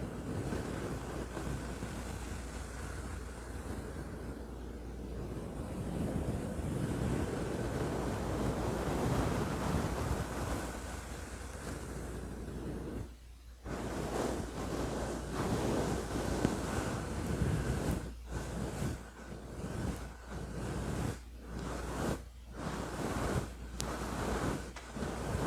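Fingertips scratch a fluffy microphone cover, making a steady surf-like roar close to the mic. Brief rustling breaks cut in toward the end, and no one speaks.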